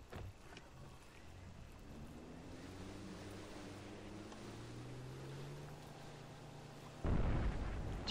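A boat moving across water in Far Cry 4 gives a steady engine drone with rolling wash for several seconds, ending in a louder, rougher burst of splashing.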